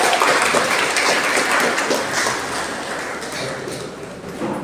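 Sustained applause from a crowd, dense and loud at first, then easing slightly before swelling again, with no speech over it.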